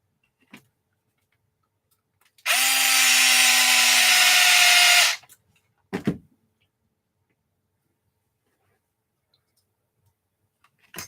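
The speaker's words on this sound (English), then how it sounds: "Just putting the screws into place." A power driver runs screws into the differential of an Arrma Kraton EXB RC car, one sustained whirring burst of about two and a half seconds, close and loud, followed by a couple of sharp clicks in an otherwise quiet room.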